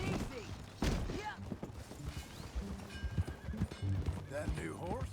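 Horse hooves clip-clopping in the video game Red Dead Redemption 2, a steady trotting rhythm with occasional snorts, mixed under in-game dialogue between characters at moderate loudness.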